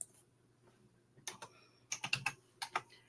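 Typing on a computer keyboard: a few scattered clicks, then quick bursts of crisp keystrokes in an uneven rhythm, close but quiet, with no talk.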